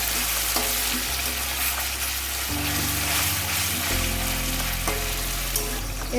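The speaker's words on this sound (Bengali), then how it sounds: "তেলটা গরম হলে প্রথমে দিয়ে দেবো পেঁয়াজ বাটা।" Onion paste fries in hot oil in a pan, a loud, dense, continuous sizzle with steady hiss and a low hum underneath that shifts slightly in level, with no talking.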